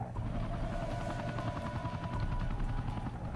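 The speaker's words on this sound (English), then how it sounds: "There's a helicopter." A helicopter in the video game Devil May Cry 2 drones steadily and loudly throughout, its dense rotor thrum and engine whine holding constant with no talk over it.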